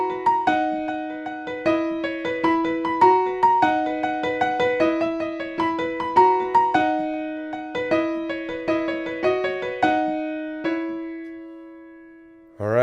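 A piano plays a quick, repeating melodic phrase with steady rhythmic chords, clear and close, ending on a sustained note.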